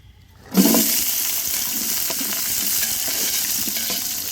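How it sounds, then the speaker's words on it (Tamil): Chopped onions hit hot oil in a pan for chicken biryani, bursting into a loud, steady sizzle after a brief quiet start and continuing with faint stirring clicks throughout. "வெங்காயம் கட் பண்ணி வெங்காயம் சேர்த்துக்கலாம்"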